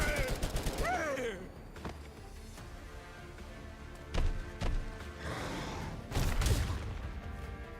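Gunfire in the video game Girls Frontline 2: Exilium, scattered shots and thuds at moderate distance with a few louder bursts later on, under brief voice sounds and game effects.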